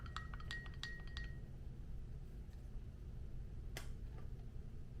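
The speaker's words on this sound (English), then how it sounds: "Give it a stir." A spoon clinks lightly against glass while stirring freshly brewed Ethiopian coffee from a Hario V60, a quick run of several small taps followed by one isolated clink, faint and close over a quiet low hum.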